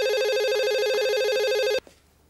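A telephone rings loudly and steadily in a warbling electronic tone, then cuts off abruptly, leaving a brief faint room noise.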